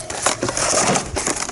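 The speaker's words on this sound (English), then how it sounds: "This is the aluminum one." An aluminum-surfaced slate turkey call is scratched with a striker, giving short raspy, scratchy strokes in quick succession, close up and moderately loud.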